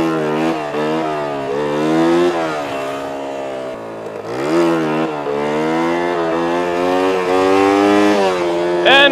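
A motorcycle engine revs hard in second gear during a wheelie attempt, rising and falling in pitch through repeated throttle surges, loud and close.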